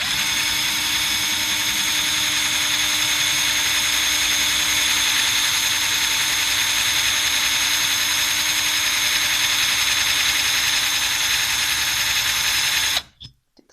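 A heavy power drill bores drainage holes with a steady, loud mechanical whine held for about thirteen seconds before abruptly stopping, with a few faint knocks after.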